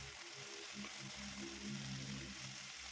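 Okra and onion fry in a pan after the lid comes off, with a very faint continuous sizzle and low hiss.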